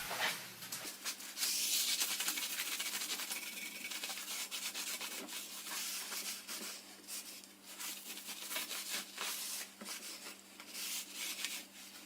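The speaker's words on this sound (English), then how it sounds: "After all the deburring, the beds need a wipe down with WD-40 to remove the chips and any loose abrasive from the" Steady rubbing and wiping across the bed of a CJ0618 7x12 mini lathe with a WD-40 soaked rag, clearing chips and loose abrasive after deburring; continuous close scrubbing strokes with no talking.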